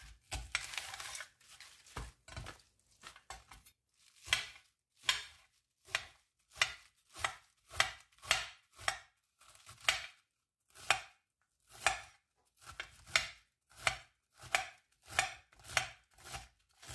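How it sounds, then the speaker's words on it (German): A knife chops Chinese cabbage into strips on a cutting board, a long series of crisp, close, evenly spaced cuts with short pauses between runs and no talking. "Lege ich an die Seite und schneide den einfach in Streifen."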